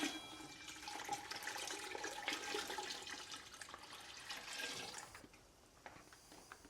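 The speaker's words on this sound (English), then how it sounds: "Then we're going to take our 1 gallon of beef broth and get that added to it here." A gallon of beef broth poured into a pot in a steady gushing stream for about five seconds, then tapering off to quiet splashes and drips, fairly faint.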